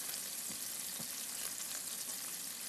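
Mushrooms, asparagus and sun-dried tomatoes fry in butter in a pan while being stirred, giving a soft, steady sizzle with light scraping.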